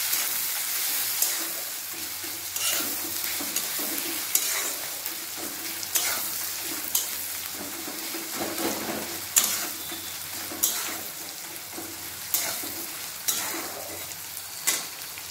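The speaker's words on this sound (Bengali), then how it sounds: "পেঁয়াজটা লাল লাল ভাজা হয়ে গেছে।" Onions frying with salt in a pan, a steady crackling sizzle broken by repeated scraping stirs of a spoon, close and continuous with no talking, while cooking a rohu fish curry with ground coriander leaves.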